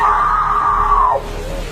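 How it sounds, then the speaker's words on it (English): A woman's intense, sustained scream rings out loud and close in a shopping area, holding steady before breaking off abruptly, leaving a fainter trailing wail. "She then releases another, even more intense scream."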